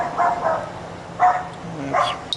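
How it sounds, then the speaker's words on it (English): A dog barks several times in quick bursts, fairly close, in a garage or workshop where Yamaha fuel injectors are being cleaned and swapped, with no talk over it. "I think that's my dog."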